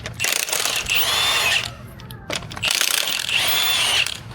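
Power tool spinning lug nuts off a car wheel during axle work, two loud whirring bursts of about a second and a half each separated by a short pause, close up with no talk.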